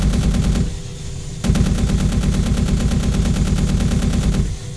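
An AH-64D Apache Longbow attack helicopter's cannon fires in Arma 3 in two loud, rapid bursts, a short one and then a longer sustained stream of evenly spaced shots over a steady rotor drone.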